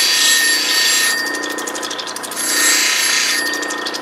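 Crystal opal from Lightning Ridge ground into an uncalibrated oval on a coarse 80 grit wheel: a steady, fairly loud gritty whir runs throughout, with harsher scraping bursts as the stone presses against the wheel, alone with no talk.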